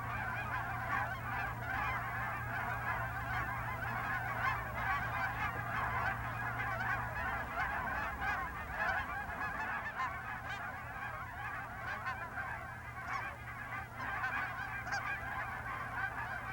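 A large flock of geese during a hunting season honks in dense, overlapping calls for the whole stretch, loud and fairly close, over a low steady hum.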